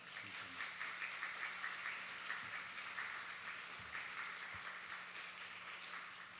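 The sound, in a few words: audience applause welcoming a pastor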